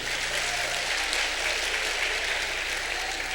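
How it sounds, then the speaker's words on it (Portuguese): A crowd claps continuously, a dense, steady wash of applause filling the whole stretch without pause. "Palmas, gente, mais forte."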